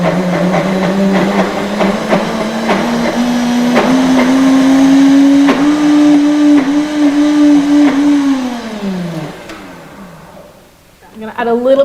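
A kitchen blender whirs steadily for several seconds as it mixes a thick bean juice mixture for a vegetarian dish, its pitch rising slightly as the load eases, then winding down to a stop.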